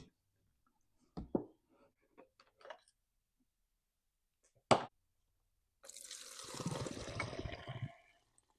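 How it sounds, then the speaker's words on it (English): Fuel is poured out of the carburetor of a Stihl MS362 M-Tronic chainsaw in a brief liquid splash and trickle. A few clicks and handling knocks come before it, and the workshop is otherwise quiet. "I'm going to dump the fuel out of it."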